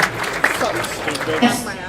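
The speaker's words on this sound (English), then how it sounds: "give yourselves a round of applause" A round of applause from an audience at a bowling tour's season awards ceremony, a busy wash of clapping under a speaker's voice.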